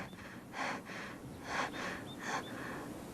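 A narrator's voice imitates a dying fox gasping, a few short breathy gasps and snorting breaths in quick succession, close and quiet.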